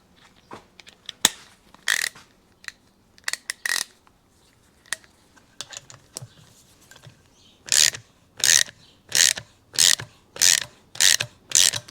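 A pin puller tool clicks and cranks as it pushes the old wrist pin out of a piston on a Yamaha 100 Trailmaster engine, scattered sharp clicks at first, then a steady run of loud ratcheting strokes.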